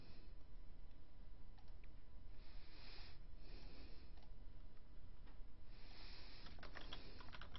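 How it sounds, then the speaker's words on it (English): Typing on a computer keyboard into a Google Docs document, with steady soft key clicks running throughout, some denser bursts of taps, and no talk. "you can start typing in your document"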